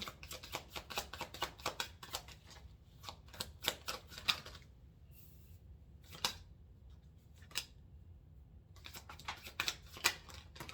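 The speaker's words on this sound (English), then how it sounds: "Let me just get these cards out" Tarot cards being handled and laid out on a table, a run of quick close taps and flicks, then a quieter stretch with sparse card sounds, then another burst of rapid snapping, fairly soft and with no talking.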